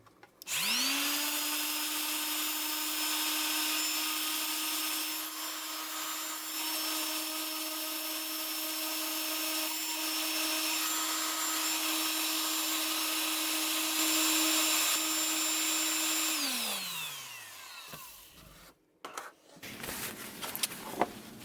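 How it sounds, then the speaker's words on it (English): A power sander with 40-grit paper whines steadily at close range on a glass wine bottle for about sixteen seconds, then winds down, followed by some scraping and handling noises. "Let's start the sanding process."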